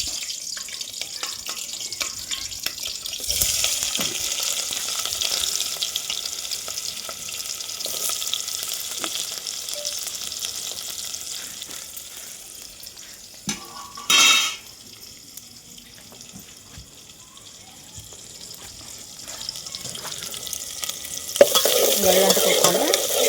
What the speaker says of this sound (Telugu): ఇప్పుడు తాలింపు వేస్తున్నాను అన్నమాట